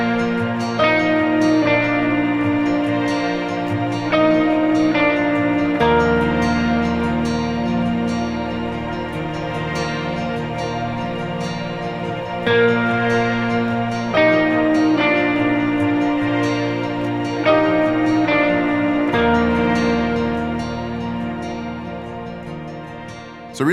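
An electric guitar plays the simple intro riff of the worship song Crowns Down, ringing sustained chords that shift every few seconds with a small echo, full and loud throughout with no voices.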